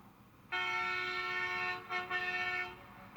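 A loud, sustained NASCAR truck air horn blares outside a hospital in Florence, breaks briefly, then sounds again in a second long blast before cutting off.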